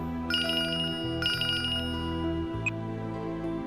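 A phone rings indoors in a Tamil TV drama scene, giving two short, bright bursts of a electronic ringtone followed by a faint single chime, over a low steady background hum.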